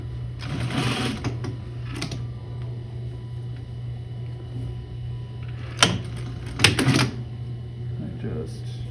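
A sewing machine stitches blanket coat fabric at a half-inch seam, a steady close mechanical whir with a few sharper clacks and bumps, while a person talks over it.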